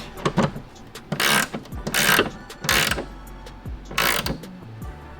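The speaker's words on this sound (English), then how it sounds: "Take our 15mm wrench." A 15mm wrench snugs a nut on a Volkswagen GTI hatch while fitting a hatch-pop kit and rear wiper delete, giving a few close, bursty ratcheting clicks in separate runs with brief pauses between them.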